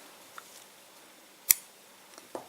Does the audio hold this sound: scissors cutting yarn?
yes